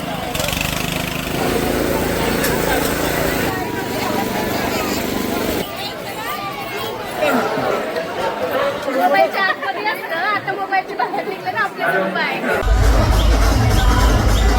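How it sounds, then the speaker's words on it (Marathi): A large crowd of devotees at the Kelamba Devi temple beside a hill, a dense babble of chatter with an engine-like drone mixed in, and a voice speaking at times. "बघा फुल एकदम गर्दी"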